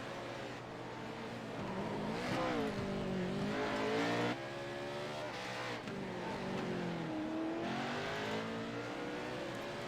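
Pro4 race trucks at Sonoma charge through a corner, several engines howling and revving with rising and falling pitch as they pass close by, occasional tire squeal mixed into a loud, busy racing roar.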